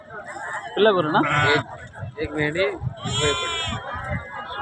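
Several sheep bleat loudly in overlapping, wavering calls at the weekly market in Banswada, Kamareddy district, with some murmuring voices in the background.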